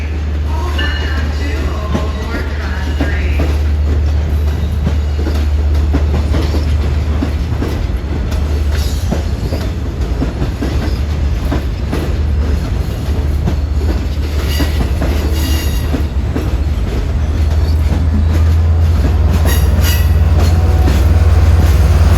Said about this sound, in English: here comes train 2709 from Montauk